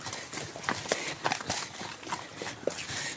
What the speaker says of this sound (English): you had some horse hooves on my end